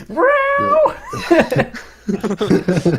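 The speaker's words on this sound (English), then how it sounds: "If you don't mind also hearing the cat." A small fluffy cat being cat-sat indoors meows in a long, drawn-out cry near the start, followed by human speech and chuckling.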